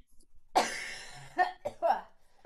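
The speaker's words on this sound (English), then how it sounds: "I'm doing the coughing for you right now" A person coughs in a live session, with one hard, loud cough followed by a few shorter coughs and throat-clearing sounds a second or so later, close up in a quiet room.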